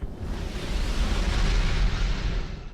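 A loud, rumbling Halo 2 explosion with dense roaring noise that swells and holds for a couple of seconds before easing off.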